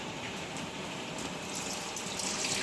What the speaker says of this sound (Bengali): যতটা চাল দিয়েছি তত তার ডবল জল দেব